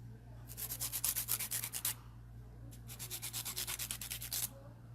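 A hand file rubbed quickly back and forth across the edge of a long acrylic nail, two runs of rapid rhythmic rasping strokes separated by a short pause, close and clear over a faint steady hum.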